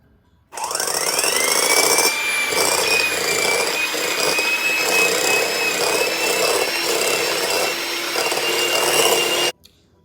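A mixer creams butter with pure vanilla extract and a pinch of salt on medium speed for buttercream frosting; its loud, steady motor whine switches on, runs unbroken for about nine seconds, then cuts off, with no talking.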